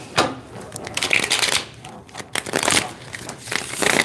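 A deck of tarot cards is shuffled by hand, with crisp riffling and rustling bursts that come in uneven waves, close up and with no talking.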